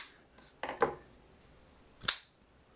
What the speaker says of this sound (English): this is me failing to open the Montosa